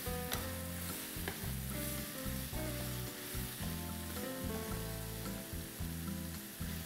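Chopped onion and meat frying in a pan: a loud, continuous close-up sizzle with crackling spatters and occasional stirring scrapes, no talking.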